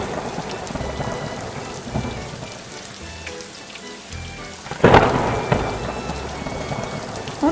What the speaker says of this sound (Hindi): एक दिन बहुत तेज़ बारिश होने लगी